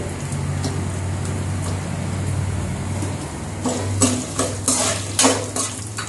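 Dry red chillies fry in oil for coconut rice, a soft sizzle under a low hum, followed by several bursts of a spoon scraping and clinking against the pan near the end.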